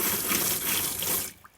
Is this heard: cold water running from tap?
yes